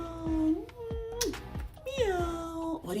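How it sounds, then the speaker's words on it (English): A toy cat gives several loud, close electronic meows in quick succession, rising and falling tones over about three seconds, with no talk between them. "I had to buy a cat that meows."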